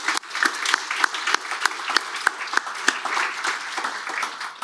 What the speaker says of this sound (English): can we just give everyone a massive round of applause?